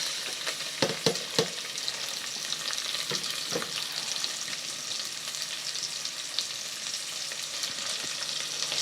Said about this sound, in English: now that you can feel the liquid oil is jumping up, then we place in our onions